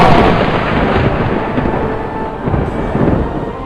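Heavy thunder rolls continuously over a mountain peak during a storm, a loud, deep, sustained rumble with swelling surges and a rain-like hiss throughout.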